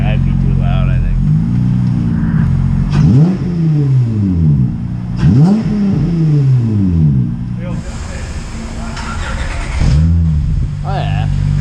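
An Acura TL SH-AWD fitted with Borla Pro XS mufflers revs repeatedly, with loud, deep exhaust swells rising and falling close by, while people talk over it.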